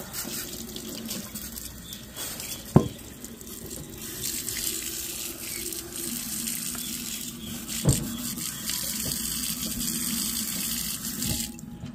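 Tap water runs steadily into an indoor sink while a white ceramic tile is washed, a continuous rushing stream with a couple of brief knocks of the tile against the basin.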